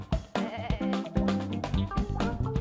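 Sheep in the Looney Tunes: Sheep Raider video game bleat loudly and repeatedly. The wavering, nasal cries overlap one another over some game background sound.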